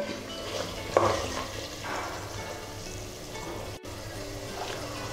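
Kuttanadan-style Kerala duck curry simmers in a pan with a soft, steady sizzle and bubbling, a brief stirring clink near the start, all fairly quiet and close.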